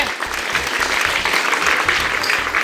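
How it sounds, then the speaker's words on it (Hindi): Steady applause from a crowd honouring school toppers at a Katni district school event, dense clapping sustained throughout with a faint voice beneath. "तालियों की गड़गड़ाहट की कमी नहीं होनी चाहिए"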